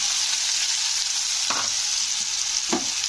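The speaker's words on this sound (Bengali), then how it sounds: "তো এবারে পেঁয়াজটাকে ভাজবো" Steady hiss of chopped large onions frying in hot oil, with two brief scraping stirs partway through; no talking.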